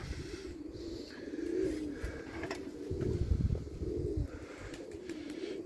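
Pigeons in a loft coo softly in low, repeated throaty bursts, with rustling and a few faint chirps mixed in at moderate distance.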